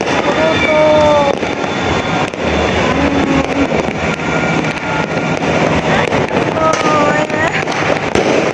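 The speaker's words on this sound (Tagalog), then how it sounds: "Sa ibang lugar, grabing purutok." New Year fireworks and firecrackers going off nearby and across the area, a continuous crackling barrage of bangs with whistling rising tones, people talking underneath.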